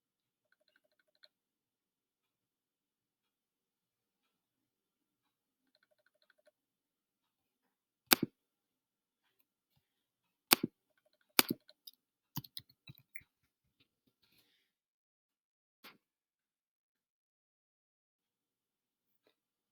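A computer mouse clicking on a database website, heard as a few sharp isolated clicks and then a quick cluster of clicks in otherwise near-silence.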